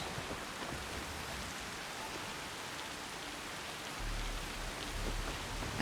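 Steady rain falls in the game Assassin's Creed Shadows, a broad even hiss with soft scattered drops, continuous and moderately faint, with a slight swell in the last couple of seconds.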